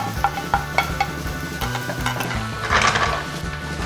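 Ingredients for mapo tofu stir-fried in a pan, with close, steady sizzling and frying over the rattle and scrape of a utensil stirring against the metal, plus a louder burst of sizzle near the end.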